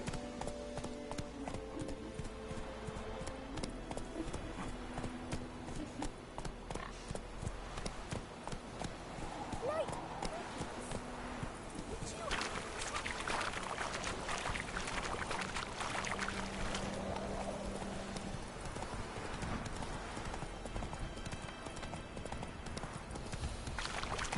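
Hoofbeats of Roach, the horse in The Witcher 3, clattering in a steady galloping rhythm over continuous game music and ambience, moderately loud throughout.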